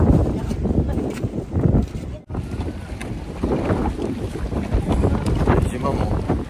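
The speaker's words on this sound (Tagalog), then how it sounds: "Ang lakas ng hangin." Strong wind roars and buffets against the microphone in a steady rushing blast after a boat crossing to Boracay, with water and boat noise beneath.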